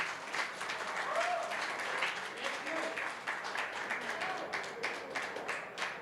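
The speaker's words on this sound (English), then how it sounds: "Round of applause, please, for Mr. James Aranas, who put in a superb performance." Applause for the runner-up at an Asian 9-ball pool tournament final, a fairly faint, steady patter of clapping from a modest crowd with a few voices murmuring underneath.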